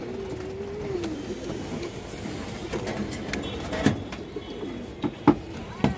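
Large pigeons kept as a show or fancy breed coo softly in low, murmuring phrases, with scattered clicks, bumps and rustling around them.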